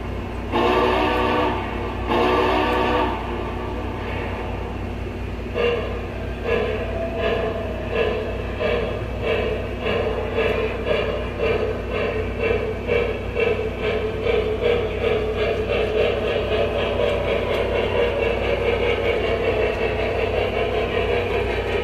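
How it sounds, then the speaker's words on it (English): A Lionel Legacy O scale model train engine runs around a layout shared with Lego builds, with a rhythmic chuffing and clicking that speeds up after a short horn blast at the start, close and steady throughout. "we're going to go ahead and fire up one of our Lionel legacy engines and take it for a little spin"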